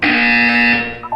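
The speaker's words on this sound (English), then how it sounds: "When you hear the buzzer, look down at the floor." A loud electronic buzzer sounds in a video game: one steady, harsh tone held for most of a second, then it cuts off and a few fainter tonal blips follow.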